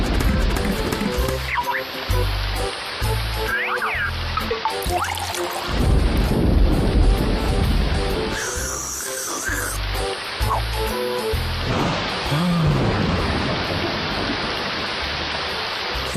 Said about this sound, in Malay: Hujan lebat pun tak apa.